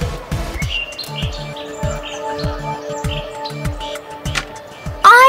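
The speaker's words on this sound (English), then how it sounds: "The elder bird, returning from the hunt, heard their cry." Young cartoon birds chirp and tweet in high, rapid, overlapping cries over a repeating rhythmic musical backing, close and fairly loud, ending in a louder burst.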